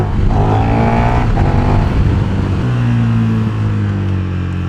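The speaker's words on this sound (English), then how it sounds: "the engine braking in first gear is ridiculous" A KTM 1390 Super Duke engine brakes hard in first gear, a loud close droning engine note falling and shifting pitch under steady wind rush, with no talking.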